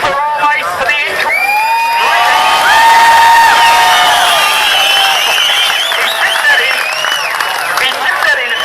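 Crowd at Lardner Park Motorfest cheering and whooping after a VN Commodore crashed into the wall, a loud sustained roar of many voices with shouts rising over it throughout.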